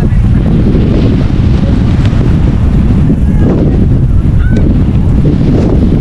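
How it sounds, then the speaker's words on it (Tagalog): Constant heavy wind off the Pacific Ocean at Dingalan, Aurora, buffeting the microphone, a loud low rumble throughout, with faint voices and a few honking calls in the background. "Lakas na hangin guys"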